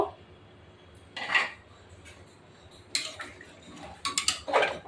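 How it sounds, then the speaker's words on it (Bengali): Potato pieces go into a pot of mutton curry, making a few short, close clinks and clattering thumps spaced over several seconds against a quiet kitchen background. "এখন আলুগুলো দিয়ে দিব।"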